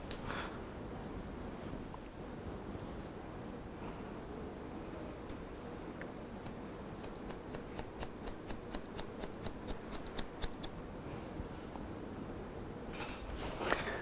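Scissors snip hair at eyebrow level while shaping a rounded fringe, a quick run of sharp, evenly spaced clicks in the middle, close and fairly clear over a low steady room hum.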